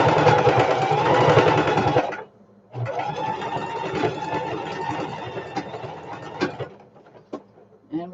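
A sewing machine stitching a small reinforcement on a shoulder bag: a loud, close, steady whirring run of about two seconds, a brief pause, then a longer run that slows and ends in a few scattered clicks.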